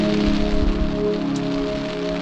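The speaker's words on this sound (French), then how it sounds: "Il est 8h moins le quart et il pleut." Steady rain pelts a tent on an early-morning campsite, a dense continuous patter with a low, unbroken hum underneath and no voices.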